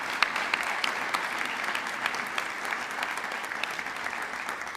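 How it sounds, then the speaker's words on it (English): An audience claps for alumni inductees at a Wall of Fame induction ceremony, a steady, dense round of applause with scattered sharper claps standing out, continuous and evenly loud across the whole stretch. "Please join me in another round of applause for all of our 5 alumni tonight."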